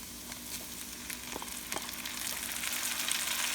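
Tomatoes frying with browned onions in a pan for chicken curry, a steady close sizzle with a few sharp clicks of a spoon scraping the pan, building slightly louder toward the end.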